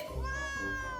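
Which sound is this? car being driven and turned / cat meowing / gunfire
cat meowing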